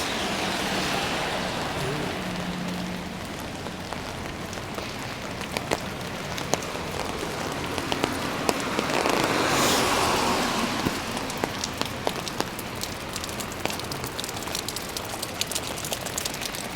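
Heavy rain pours steadily in Halifax during a walk outdoors, a dense, loud hiss of drops spattering on surfaces throughout, with no talking.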